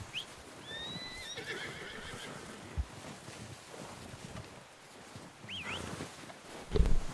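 A horse in Red Dead Redemption 2 whinnies with a rising, squealing neigh, and later comes a short snorting burst as it shakes its head. It is moderately close, over soft outdoor ambience with no talking.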